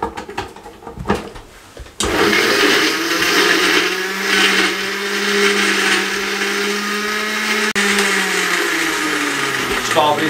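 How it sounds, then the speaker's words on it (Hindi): A blender loudly grinds a strawberry milkshake of milk, sugar and ice cubes, starting abruptly after brief handling noises and whirring steadily and close for the rest, with a slight pitch shift near the end. "दूध शामिल कर दें डब्बे वाला और इसको अच्छे तरीके से ग्राइंड कर लें।"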